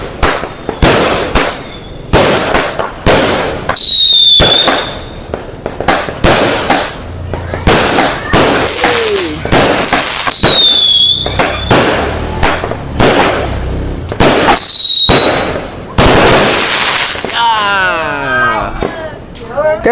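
A 49-shot firework cake goes off at a Hari Raya 2025 celebration in a FELDA settlement, firing a long run of sharp, loud bangs with whistling rising shells between them, while people talk nearby.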